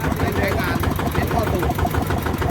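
A Yanmar engine on a Thai-built Siam farm vehicle with a bare frame idles with a steady, rapid, medium-pitched chugging close by, while people talk over it.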